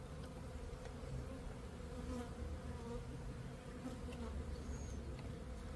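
Honeybees droning steadily at an opened backyard hive during a March inspection, a dense, even hum from many bees close by, with occasional louder passes of single bees near the listener.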